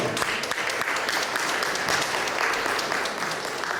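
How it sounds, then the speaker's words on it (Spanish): A congregation claps for the Lord during a Spanish-language church sermon, with a dense, steady burst of many hands clapping together and no talk over it. "denle palmas al Señor."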